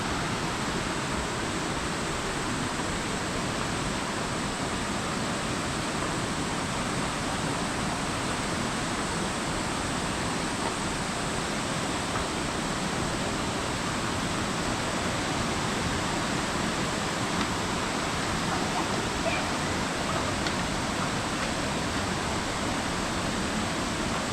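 Josephine Falls, a waterfall near Innisfail and Babinda in Queensland, roars as a steady, dense broadband rush, loud and unbroken from start to finish with no voices over it.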